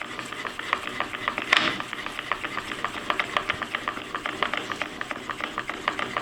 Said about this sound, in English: you'll hear it making contact and grinding up against the diamond stone